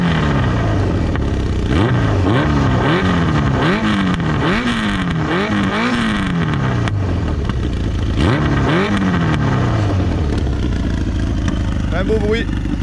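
A Honda 900 Diversion café racer motorcycle is revved repeatedly, its exhaust rising and falling in a series of loud throaty blips, close by, while someone speaks throughout.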